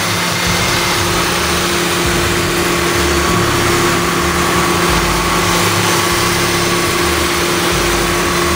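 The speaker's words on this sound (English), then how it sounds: "There's the engine underneath the hood here." A V6 car engine idles steadily under the hood, a continuous low hum with a faint tonal whine, heard up close and unbroken with no talking.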